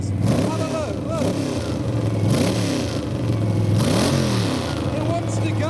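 A car engine revving hard, the pitch rising and falling in repeated surges over a steady rumble, loud and close, with a voice speaking faintly in the background.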